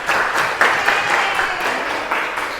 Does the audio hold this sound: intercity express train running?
no